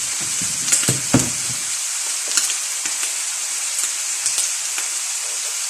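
Pork sizzles steadily in a hot pan, with a few clinks and scrapes of stirring early on, close and continuous.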